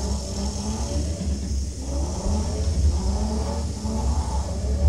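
A car engine revs continuously while drifting in the driving game DR!FT, a steady mid-pitched motor drone with gentle surges in throttle, loud and close with no voices.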